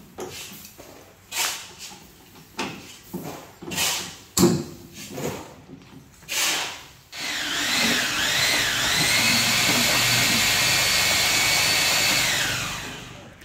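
A power drill drives screws into a casting mold for a hexagonal concrete planter, a steady whirring whine lasting several seconds after a series of knocks and clunks from handling the mold.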